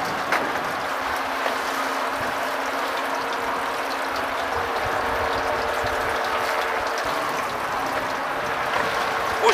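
Fishing reel drum ratchet clicking steadily as line is reeled in on a boat during autumn flounder fishing, a rapid fine mechanical whir that runs throughout over outdoor wind and water noise.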